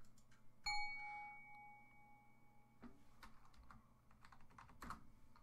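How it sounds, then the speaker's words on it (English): Quiet computer keyboard typing during an online survival game: scattered soft key clicks, with a bright chime near the start and a few sharper taps later. "Press enter and type"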